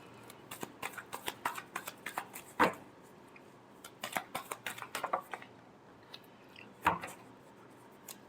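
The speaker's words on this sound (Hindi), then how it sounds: "Last shuffle." A deck of tarot cards being shuffled by hand during a weekly Aries horoscope reading, with two bursts of rapid riffling clicks separated by pauses and a couple of sharp slaps as the cards are tapped together, close and fairly quiet.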